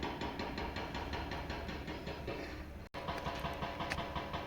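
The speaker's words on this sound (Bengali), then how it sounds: "খালি এই রাস্তার কাজে কনস্ট্রাকশনেরই আওয়াজ হচ্ছে।" Road construction work near a quiet pine forest on the Zuluk Silk Route in Sikkim gives a steady rhythmic mechanical clatter of repeated knocking, continuous and fairly loud, briefly cut once before resuming.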